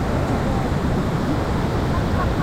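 Swollen floodwater surges under heavy monsoon rain near a waterfall, a dense, constant roaring rush that fills the scene loudly and evenly.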